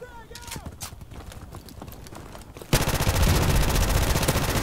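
A P90 submachine gun fires in a first-person shooter match on the Showdown map, with scattered shots and game sounds at first, then a loud, sustained burst of rapid automatic fire.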